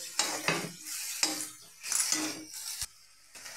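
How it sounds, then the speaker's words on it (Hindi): Metal utensil scraping and clinking against a pan in quick irregular strokes, stirring masala, with a light sizzle underneath; no voices. "इसको चला दीजिए"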